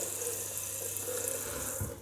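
Tap water running steadily into a synthetic shaving brush at a bathroom sink, a close, even hiss that continues throughout.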